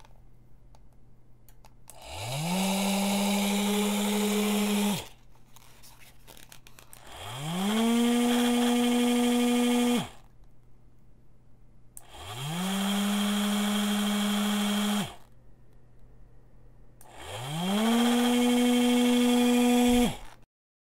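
Small DC motor switched by an Arduino through two relays, alternating clockwise and counterclockwise rotation: four separate whirring bursts of about three seconds each, spinning up and cutting off, with faint hum between them.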